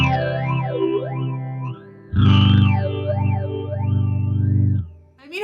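Guitar runs through a Catalinbread Many Worlds phaser pedal with the mix turned up, giving sustained chords a deep sweeping whoosh that rises and falls in repeated waves, loud and close, with a brief break between two held chords.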